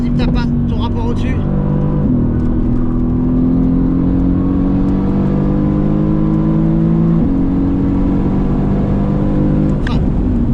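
A Mercedes-AMG GT R engine drones loudly from inside the car on a race track, pitch rising steadily as it accelerates through the gears, with a shift step and voices talking over it.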